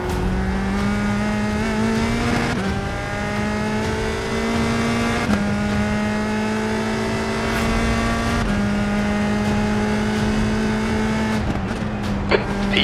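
Open-wheel race car engine in a racing video game, droning steadily with pitch shifting as gears change and the car works through corners, loud and continuous with a brief squeal near the end.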